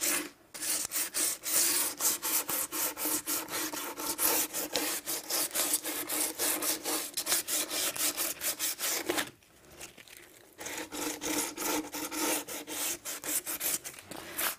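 Rhythmic back-and-forth sanding scrapes rasp across a wooden table, stripping old stain down to bare wood, loud and close, pausing briefly near the end before resuming.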